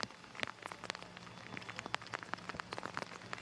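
Rain patters steadily at a baseball game between the Orlando Monarchs and Atlanta Smoke, a soft, continuous scatter of drops hitting surfaces.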